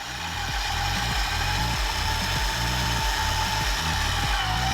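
An electric mixer whirs loud and steady as it beats powdered sugar into carrot cake icing, with a low motor hum and rhythmic pulsing beneath and no talking.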